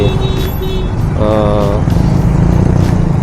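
Heavy road traffic crossing a bridge in Manila, a loud continuous engine drone with a vehicle horn sounding briefly in the middle, close to the road.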